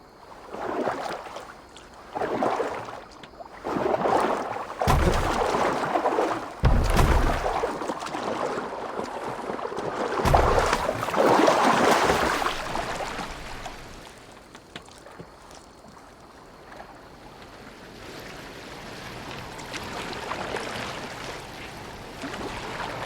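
A boat steered across water in the video game Assassin's Creed Valhalla, with surging splashes and rushing wash that swell and fade in loud waves before settling into a softer, steady flow.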